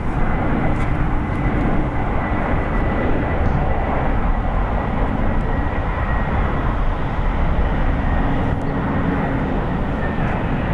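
An American Airlines Airbus A321 arrives at San Francisco International Airport after a flight from JFK, its jet engines giving a steady, broad, loud roar that holds unbroken throughout.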